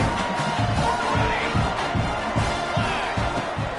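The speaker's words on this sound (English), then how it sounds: "this crowd is buzzing after that last score" Crowd buzzing in a college football video game, a dense continuous roar of many voices filling the stadium, steady and loud with faint cheering swells throughout.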